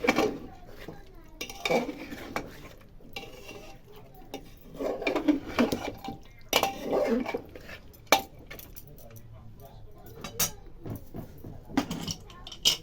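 Duck curry with potatoes being stirred in a pot, spoon and lid clinks scraping at an uneven pace close by, with faint background voices and household noise in between.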